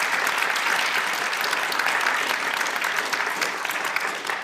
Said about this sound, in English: please give them a round of applause, for this discussion